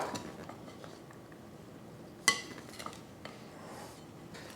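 A savory, colorful sandwich filling gets a quick mix in a bowl: soft continuous scraping and stirring with a utensil, broken by one sharp clink against the bowl and a few lighter taps, fairly close and quiet.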